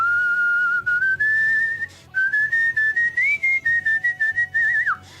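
A clear, loud whistled melody with sustained and wavering notes, played close up over a soft rhythmic backing.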